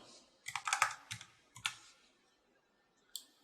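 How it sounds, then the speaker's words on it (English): Fingers type serial numbers on a computer keyboard in a quick burst of close, crisp key clicks, then pause, then one final isolated keystroke. "In this spreadsheet, I can physically type in or copy and paste different serial numbers into these cells"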